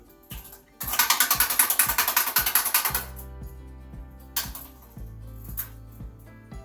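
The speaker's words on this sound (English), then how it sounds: "I'm going to lay this machine to the side, to his back, or on his back, and pull it back out 1 inch at a time" Drain snake cable being cranked and pulled back out of a clogged toilet: a dense run of rapid ratcheting clicks, then slower, spaced mechanical clacks and knocks close by, with no talk.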